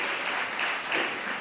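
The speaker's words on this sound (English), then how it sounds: "can we have a huge cheer for Gaurav and West Delhi people?" A live audience at an NDTV Yuva youth event cheers and applauds for comedian Gaurav Kapoor, a dense, continuous wash of clapping from a large crowd that swells slightly before easing.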